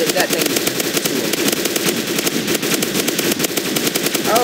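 Rapid automatic gunfire from a weapon in the Roblox zombie game Zombie Rush, a loud continuous stream of shots filling the whole stretch with no pauses.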